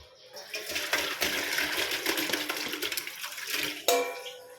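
Water poured and splashing over boiled soybeans as they are rinsed and drained in a kitchen, a steady rushing stream lasting several seconds, close and fairly loud, ending with a brief clatter.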